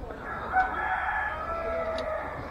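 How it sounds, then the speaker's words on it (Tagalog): A fighting rooster crows once, fairly loud and close, its call stretching across the whole clip with no talking. "Manok, ayun, sa kahon."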